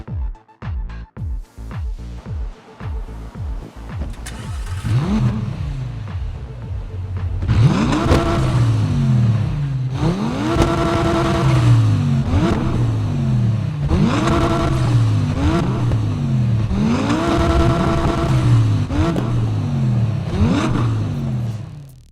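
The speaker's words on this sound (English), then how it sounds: "This supercar was powered by a generous 5-liter, 610 horsepower, twin-turbo V10 mid-engine." Twin-turbo 5-liter V10 mid-engine of the Audi Le Mans Quattro supercar in Need for Speed, loud and close, first a few sharp blips and then repeated rising revs through gear shifts, each climb followed by a drop as it pulls hard.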